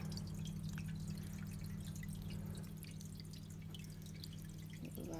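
Small splashes and drips of water being added to thaw frozen bloodworms over a steady low hum of aquarium equipment, quiet and close.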